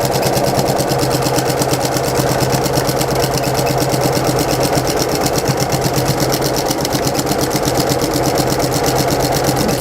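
A sewing machine stitches a baby blanket edged with ribbons, its rapid, even mechanical chatter running loud, close and unbroken throughout.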